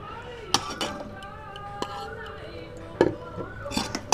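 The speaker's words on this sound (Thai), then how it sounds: "คนให้เข้ากันเลยนะครับ คนให้เข้ากับหมูยอนะครับ" Thai-style spicy salad of sliced pork roll (moo yor) stirred and tossed in a bowl, with scattered clinks and scrapes of a utensil against the dish over a quiet room hum, a few sharper knocks standing out near the end.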